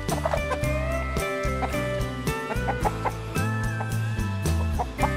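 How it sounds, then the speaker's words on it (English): A rooster calls repeatedly in the middle of steady, loud music, with clucking bursts standing out against the tune. "Waddles, that rooster's calling you a yellow-bellied fool"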